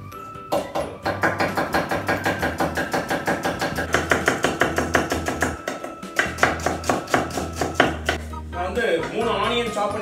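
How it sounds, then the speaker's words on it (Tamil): A knife chops onion on a board in quick, steady, even strokes, close and crisp, with dozens of cuts running in long bursts broken by a few short pauses; no talking. "இந்த வெங்காயத்தக்கலையே கட் பண்ண போகிறேன்"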